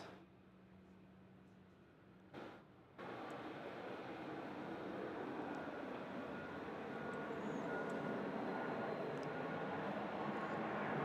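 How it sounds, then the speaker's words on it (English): A Boeing 737 Max 8 touches down at Melbourne Airport at night, heard from a distance as a broad, steady engine and airflow roar that swells after a brief thump and keeps rumbling, with no voices. "here's the Max 8 touching down"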